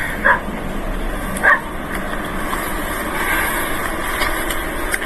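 A dog gives two short barks, at a moderate distance, spaced about a second apart, over steady outdoor background noise, with faint traffic.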